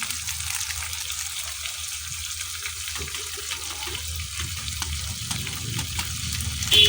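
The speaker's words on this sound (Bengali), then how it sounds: "সসটা মিক্স করে নিচ্ছি। এবার দিয়ে দিচ্ছি আমি একটা ম্যাগি মশলা।" Pasta being stirred with tomato sauce and Maggi masala in a pan, giving a soft, steady sizzling and scraping texture that runs continuously at low volume throughout.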